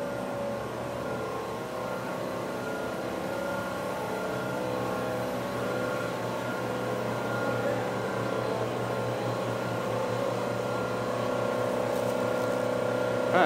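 An old stationary generator runs at a steam and gas engine show, giving a steady, continuous mechanical hum and drone with a faint rattle, close by and alone with no talk.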